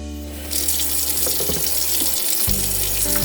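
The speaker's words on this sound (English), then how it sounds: "I'll go ahead and turn the water on and show you how I just kind of pour over" A kitchen tap is turned on and runs water steadily, its splashing hiss close and continuous, the flow briefly changing tone near the end as the stream is directed.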